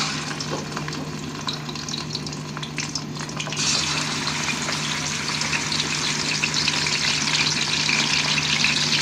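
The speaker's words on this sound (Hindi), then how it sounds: "घी गर्म हो गया, अब हम इसमें गोश्त डाल देंगे।" Mutton pieces frying in half a cup of hot ghee for Sindhi biryani, a steady dense sizzle that grows louder and fuller partway through as the meat settles into the fat, close and continuous with no talking.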